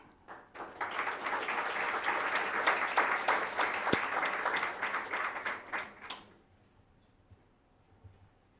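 Audience at an academic honors reception gives a round of applause, dense steady clapping for about six seconds before it stops abruptly into quiet room tone.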